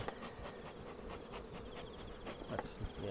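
Honeybees buzz around an open hive box as a heavy box of stores is handled, a steady close insect drone with a few louder passes near the microphone.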